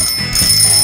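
Electronic chime on a Scrabble game device, a loud bright bell-like ring with steady high tones that sustains through the whole short moment, no talking.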